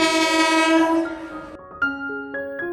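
A moving train sounds a long, loud, steady horn blast over a rolling rumble, then shorter horn notes follow as a sound effect in a spoken story.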